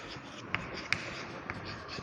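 Chalk or marker writing on a board during a chemistry lecture; faint, close scratching strokes with a few sharp taps, set against quiet room noise.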